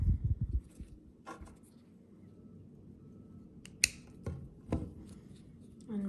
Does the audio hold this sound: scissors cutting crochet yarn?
yes